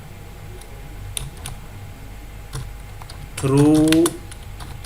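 Typing on a computer keyboard while a Java print statement is entered, scattered key clicks followed by a denser burst, heard under someone speaking briefly.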